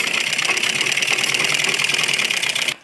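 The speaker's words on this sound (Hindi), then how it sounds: "यहाँ पर सबसे पहले सिर्फ हमें यहाँ से यहाँ तक सिलाई लगानी है" A sewing machine runs steadily while stitching piping onto a kurti back neck, a continuous mechanical whir lasting almost the whole time before stopping abruptly at the end.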